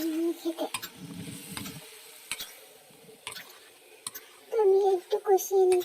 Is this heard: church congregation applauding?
no